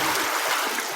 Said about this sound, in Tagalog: Guys, napasok ang tubig oh.